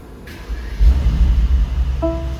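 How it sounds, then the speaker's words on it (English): A 2023 Mercedes-AMG SL63 engine starting, a brief cranking catch swelling into a deep close rumble that settles to a steady idle, with faint electronic tones. "So the car will start and the engine is running."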